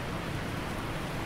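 Steady rain falls in the jungle survival game Green Hell, a constant dense hiss of downpour with no breaks, moderately loud and heard alone without voices.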